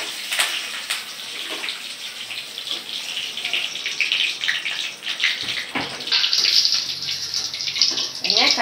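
Curry leaves are dropped into hot oil in a pan while making poha mixture, giving a loud, continuous sizzling hiss that swells and crackles.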